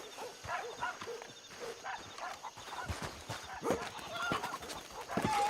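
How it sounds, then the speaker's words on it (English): Farmyard ambience in the video game Red Dead Redemption 2, with a rooster crowing and hens clucking among scattered nearby animal noises at moderate loudness, rising slightly toward the end. "Well, I heard a rooster."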